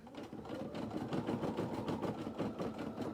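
A small embroidery machine stitches out a faux smock design on fabric, with a steady fast mechanical chatter of needle strokes that runs evenly and close throughout.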